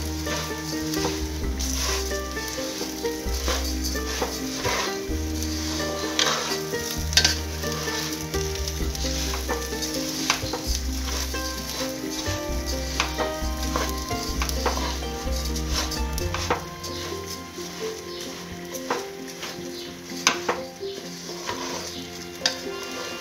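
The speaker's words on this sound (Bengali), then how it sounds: "এটাকে আমি নেড়ে চেড়ে কিছুক্ষণ 1-2 মিনিটের মতো ভেজে নেব চালটাকে।" Rice and lentils stirred and fried together in a pot for Bengali bhuna khichuri, with loud, continuous close sizzling and frequent scraping stirs throughout, and a low steady hum underneath.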